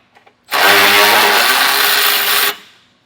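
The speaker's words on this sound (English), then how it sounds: "once we get our power ratchet on it, because they are kind of longer bolts that they're attached with" A power ratchet runs in one loud, close two-second burst while taking out the long bolts of an Aries TrailChaser front bumper, preceded by a couple of faint clicks and ending abruptly.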